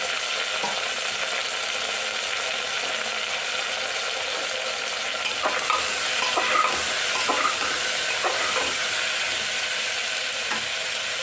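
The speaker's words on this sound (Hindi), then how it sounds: "मैं इसको डाल दूँगी इसमें, क्योंकि दोनों को साथ में फिर फ्राई करना है" Crushed garlic and vegetables fry together in a pan for a vegetable dish, giving a steady sizzle under repeated scraping and stirring clatter from a utensil, with no speech.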